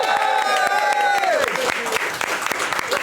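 Crowd applause and cheering at a Rocket League LAN event in Cork, Ireland, a dense steady clatter of clapping with a tone sweeping down partway through.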